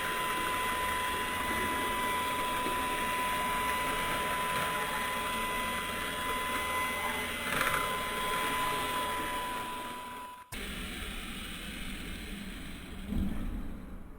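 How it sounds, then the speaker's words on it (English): An electric mixer blending Kashmiri hareesa ingredients runs as a steady, continuous whir, briefly cutting out near the end before resuming with a slightly different tone. "mix them very well with the help of a mixer or this machine."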